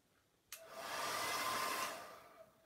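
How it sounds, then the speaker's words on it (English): A blow dryer switches on with a sharp click and runs as a steady, close whooshing roar with a faint tonal whine for about two seconds, then clicks off; no voices are heard. "Now I'm going to have to use the blow dryer just for a minute."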